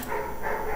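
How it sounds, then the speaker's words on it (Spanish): Dogs barking outdoors in the distance, a muffled, continuous bark under background noise. "se pusieron a ladrar afuera"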